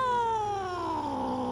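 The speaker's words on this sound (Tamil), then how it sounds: "அந்த கருப்பு பூனை நடந்துகிட்டே போகுது." A black cat gives a single long, close, drawn-out meow that slides downward in pitch and fades slightly toward the end.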